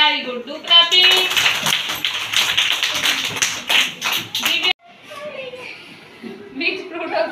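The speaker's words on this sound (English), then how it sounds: "Very good. Do clapping." An LKG class of small children claps together in a loud, dense burst of rapid hand claps mixed with their voices, cutting off abruptly before more chatter and speech continue.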